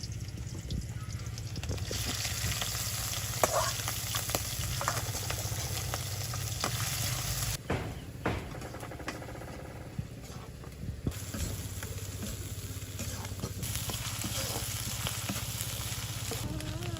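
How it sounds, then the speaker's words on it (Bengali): Small shrimp fry with chopped onion and garlic in oil, giving a steady, close sizzle throughout with occasional stirring scrapes, in a village kitchen. "তো ইচা মাছ ভাজি ভেজি হয়ে আসছে"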